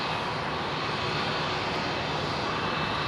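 Qantas jet airliner holding short on a taxiway at Brisbane International Airport, its engines idling in a steady, distant broadband roar with no other sounds.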